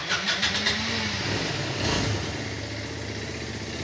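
An Aprilia Scarabeo 200 scooter engine, running with the variator and belt removed, idles steadily with a rough, buzzing drone and a brief surge near the start, close up and without any voices.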